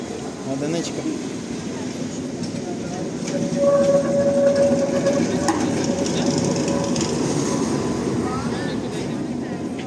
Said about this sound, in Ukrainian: Ще один трамвайчик.